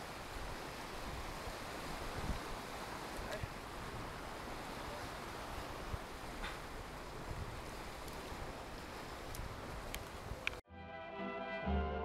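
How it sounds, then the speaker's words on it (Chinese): Sea waves wash steadily onto the shore at a beach in Pattaya, Thailand, a dense, continuous broadband roar for about ten seconds that cuts abruptly into a short, different tonal passage at the end. "大海边，第一次来海边是吗？"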